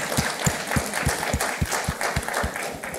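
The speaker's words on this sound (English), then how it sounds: "So let's give a round of applause here." An audience at a carbon-to-concrete technology talk applauds, with sharp, evenly spaced claps standing out over a broad wash of scattered clapping.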